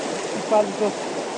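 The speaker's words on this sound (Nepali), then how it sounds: "ल हामी चाहिँ फेरि पानी चढ्दैछौँ खोला" A rocky Nepali hill stream in Kavrepalanchok rushes steadily as people wade across on foot, a close, constant watery roar with a brief voice rising over it.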